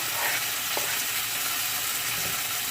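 Bell pepper, onion, scallion, thyme, garlic and a piece of Scotch bonnet pepper sizzle in hot oil on a low stove, a continuous even hiss and crackle close by, with no talking.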